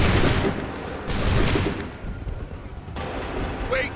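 A volley of musket fire from a line of soldiers in Assassin's Creed III, set in the Revolutionary War era. Loud overlapping bursts come in waves, with a heavy crash at the start and another about a second later, then rolling echoes.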